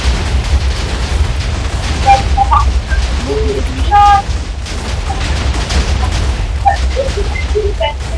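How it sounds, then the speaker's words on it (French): TNT blowing up in a Minecraft build battle, a run of rough booming blasts and crackling bursts under a steady low roar, with scattered pops and chimes from the game in between. "TNT, il y a toujours des explosions."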